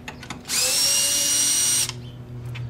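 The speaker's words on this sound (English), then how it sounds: "So the Torx T25, I've switched over to a screw gun." A cordless screw gun driving Torx T25 screws on the grille of a 2016 Volkswagen Golf R MK7, one close, loud whirring burst of just over a second with faint clicks before and after.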